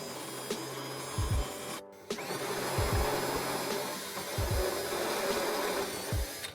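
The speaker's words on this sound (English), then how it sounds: "we just need to drill a hole at the microphone end big enough for our 4mm diameter cable to exit" Power drill boring a hole through a metal microphone stand, a steady close motor whine broken by a brief pause, with a few low knocks and thumps as the bit is worked.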